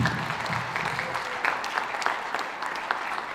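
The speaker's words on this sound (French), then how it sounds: "On peut l'applaudir" A short burst of audience applause at a citizen initiative talk, a crowd clapping fairly loudly with individual claps standing out, steady across the few seconds.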